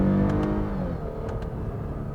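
A Lexus IS 350 F-Sport sedan engine revs up loud and close on a paddle-shifted gear change through its 8-speed automatic, a steady mid-pitched roar that holds for about two seconds with no talking.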